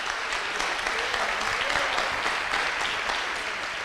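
An audience at a talk on evangelizing children and adolescents breaks into sustained applause, an even, crackling wash of many hands clapping at moderate distance, with faint murmuring beneath.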